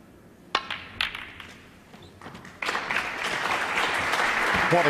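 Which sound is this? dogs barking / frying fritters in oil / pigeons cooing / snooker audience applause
snooker audience applause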